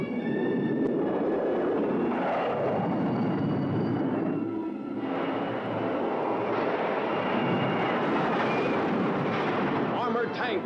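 A jet aircraft roars loudly and continuously in a 1957 monster-movie trailer, a dense rumbling blast with shifting swells, while a narrator talks over it.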